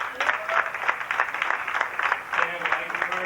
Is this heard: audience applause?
yes